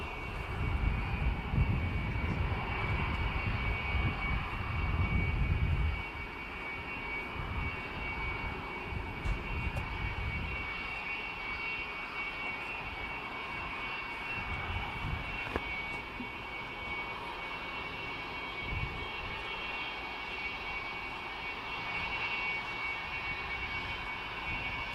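An aircraft engine drones steadily as a plane arrives at an air show, loud and continuous at first, then easing into a fainter, sustained hum that runs throughout.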